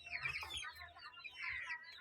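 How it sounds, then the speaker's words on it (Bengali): Tiger breed chickens, about 36 days old, cluck and chirp in soft, irregular bursts at close range. The sound is fairly quiet, with a low background hum and no speech. "আজ আমার এই টাইগার মুরগি"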